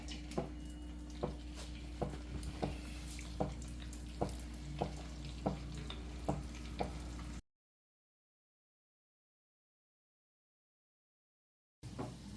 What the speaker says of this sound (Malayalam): അപ്പൊ ചിക്കൻ ഫ്രൈ ആയിട്ട് വരുന്ന ആ ഒരു സമയമുണ്ട്